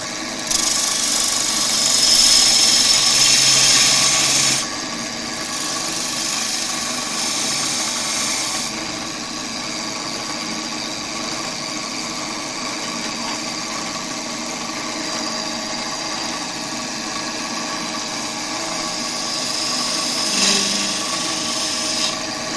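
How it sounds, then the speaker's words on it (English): Wood lathe spinning a workpiece held in a chuck as a spindle gouge cuts it for a dovetail hold, a steady motor whine with hissing cutting noise, louder in the first few seconds and continuing evenly throughout. "I'm going to take my spindle gouge and get myself set up for a dovetail hold in the chuck"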